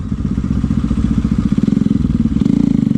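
A motorcycle pulling away as the clutch is let out gently on a forest trail, its close engine thumping in a steady rhythmic chug that deepens and swells slightly toward the end.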